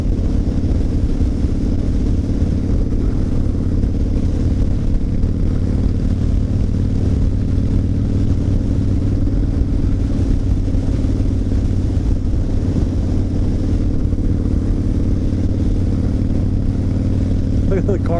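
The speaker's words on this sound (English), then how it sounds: "The car's just going across the interstate right there." A car drives across an interstate near Nickajack Cave, a steady low engine and road rumble holding throughout at moderate distance with no clear talk over it.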